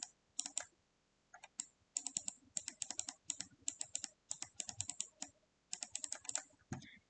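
Birth chart data is typed into Solar Fire astrology software on a computer keyboard: close, crisp key clicks in quick bursts and short runs, separated by brief pauses, with no voices.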